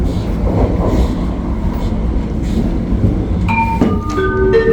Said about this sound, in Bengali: আমাদের ট্রেনটা কিন্তু ইতিমধ্যে ছেড়ে দিছে